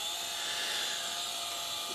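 Chainsaw boring mortise openings in wood for furniture legs, a brief high-pitched steady engine whine cutting at constant speed.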